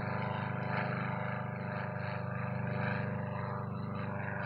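A radio-controlled H5 model airplane passes at speed, its engine giving a steady, loud, high-pitched drone throughout with a slight swell as it goes by.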